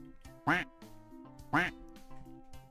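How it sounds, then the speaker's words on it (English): Two loud, close duck quacks about a second apart ring out over a steady electronic music bed, sounding like a stock sound effect in a streamed duck race game. "Exclamation point, quack, to put a duck in the pond."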